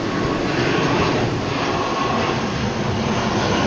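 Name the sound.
ATR 72 turboprop airplane, Aer Lingus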